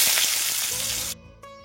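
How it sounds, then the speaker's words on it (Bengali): Potatoes sizzle loudly in hot oil in a wok, a dense, steady crackle up close that cuts off abruptly partway through, leaving a quieter hiss and faint clinks. "পটল চিংড়ি রান্না করার জন্য প্রথমেই দেখো আলুগুলো আমি ভেজে নিচ্ছি।"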